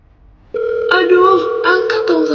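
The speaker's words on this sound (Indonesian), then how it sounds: "Coba aku telepon dulu" A phone call rings out in Sakura School Simulator, a steady electronic tone starting abruptly and running on with shifting harmonic layers, loud and alone.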